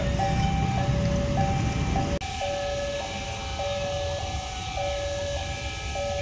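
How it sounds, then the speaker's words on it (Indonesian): A KRL Bandung Raya commuter train rumbles loudly past a level crossing, cutting off abruptly while the crossing's repeating two-tone warning bell keeps ringing steadily. "Yang baru saja melintas komuter lain Bandung Raya relasi Cicalengka Padalarang persiapan masuk stasiun Bandung."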